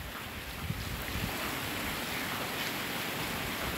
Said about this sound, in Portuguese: mais uma chuva aqui em Guajará-Mirim